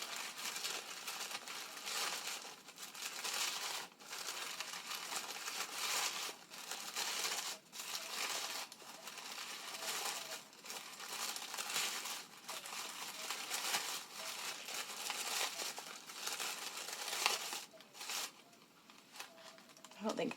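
Layers of tissue paper crinkle and rustle as they are pulled apart for a paper flower, close and continuous with frequent soft crackling bursts over twenty seconds.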